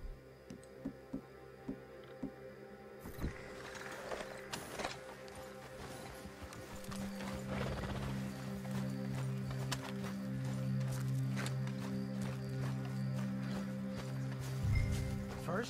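Horses in Red Dead Redemption 2 walk with a steady clip-clop of hooves, sharp and regular at first, then fading under a low rumble of ambient game sound and movement.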